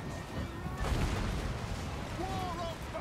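Dwarf cannons fire in a Total War: Warhammer battle, a deep booming burst near the start that swells into a dense, continuous rumble of battlefield noise.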